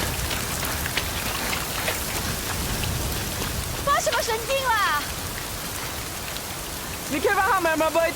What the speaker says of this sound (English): Rain is not just atmosphere.